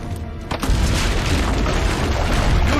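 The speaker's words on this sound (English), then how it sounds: "Use the cannons above the rampart." A deep, loud cannon boom from the rampart cannons in the video game Assassin's Creed Brotherhood bursts in after a brief quiet moment, then its heavy rumble sustains, filling the rest of the clip.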